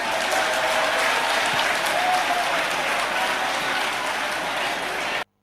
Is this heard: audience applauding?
yes